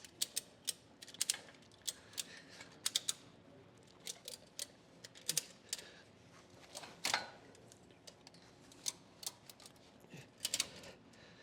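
A ShockStrap ratchet UTV tie-down strap with built-in shock absorber is cranked tight, giving close, sharp ratchet clicks in irregular bursts with brief pauses between strokes.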